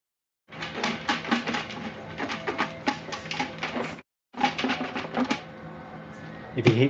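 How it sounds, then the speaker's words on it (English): Paper raffle tickets shaken inside a container: a continuous dry, rapid rattling and rustling close by, pausing briefly midway before resuming, with no speech. "If you can hear something in the background shaking, that's me shaking the tickets right now."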